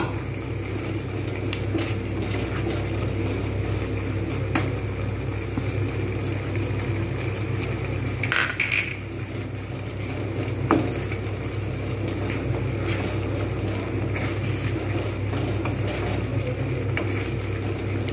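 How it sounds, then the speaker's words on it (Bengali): Boiled potatoes sautéed with ginger garlic paste in a pan for white aloo dum, a steady close sizzle with occasional stirring scrapes running continuously throughout. "এইবার এতে দিয়ে দেবো আদা রসুন পেস্ট, এটাও ভালো করে এর সঙ্গে কষিয়ে নেব।"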